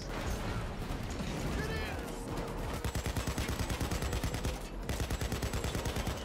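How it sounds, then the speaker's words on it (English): Rapid automatic gunfire from the video game Payday 2 rattles in steady bursts, loud and close, with game noise and a voice talking over the first part. "I think I shot Will on the side of the head"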